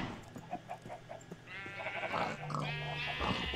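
Cows on a farm in the game Minecraft, with a livestock bleating and mooing sound rising partway through and repeating over a steady background, fairly close.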